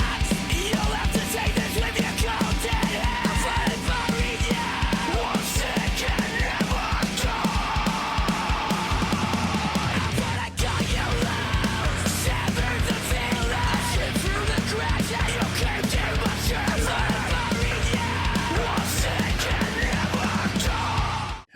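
A metalcore track plays loud and dense, with pounding drums, heavy distorted guitars and screamed vocals driving steadily, with a brief break midway.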